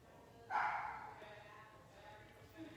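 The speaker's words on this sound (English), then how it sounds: "And we're live with the barking dog." A dog barks in an echoing room behind a live manicure session: one sharp, loud bark, then a faint second yelp a couple of seconds later, over low room noise.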